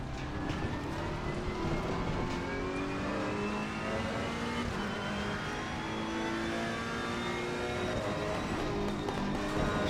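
A modern GT3 race car in a racing video game drives at speed, its engine tone rising and falling steadily through fast corners with no pauses.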